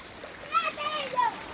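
River water splashes during a crossing of the swollen Jambudi river, a steady rushing wash with a couple of louder splashes, while voices call out nearby.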